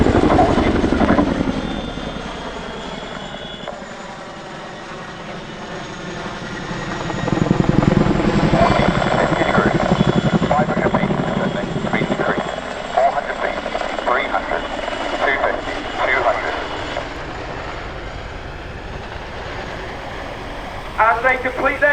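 A Royal Air Force Chinook twin-rotor helicopter flies an airshow display at Cosford, its loud heavy rotor thudding and turbine roar swelling and fading as it manoeuvres, with a commentator talking over it.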